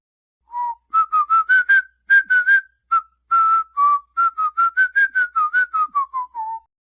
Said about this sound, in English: Now this clip is just me whistling.